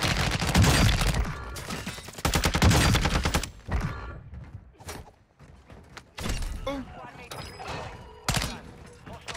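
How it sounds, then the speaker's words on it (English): Heavy blasts and bursts of gunfire crash through a Call of Duty Warzone 2 match on Ashika Island, loud impacts clustered early and recurring later, with a player's voice talking between them. "Is a mortar strike."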